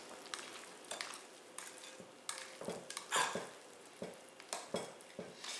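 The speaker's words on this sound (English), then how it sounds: "about a cup of frozen peas and stir those in" A spoon stirs frozen peas into mashed potatoes in a pot, a series of soft scraping and clinking strokes at an irregular rhythm, close and fairly quiet, with no voices.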